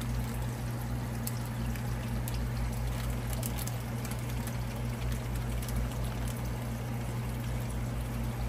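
Tank water trickles and pours steadily into a floating plastic bag of new fish in a 75-gallon aquarium, a continuous close splashing flow over a low pump hum.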